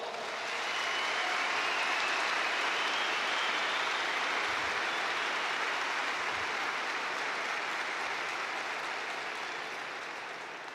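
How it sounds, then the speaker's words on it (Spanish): Applause from a conference audience at the Madrid Economic Forum, a broad sustained wash of clapping that swells quickly, holds steady and slowly tapers near the end, with no voices. "Un aplauso para él, por favor"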